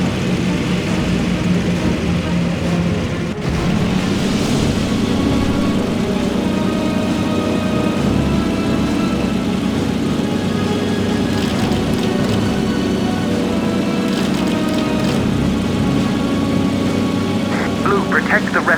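Steady droning WWII dive bomber aircraft engines from the Heroes Over Europe video game roar continuously over a harbor defense battle, loud and unbroken, with radio voices talking over them.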